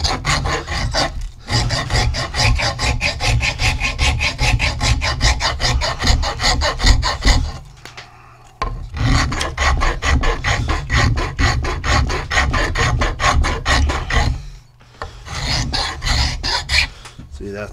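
Coarse-to-fine wood rasp worked over a new wooden handle for an old pulaski axe, a steady rhythmic scraping of rapid strokes in long runs with two short pauses, loud and close.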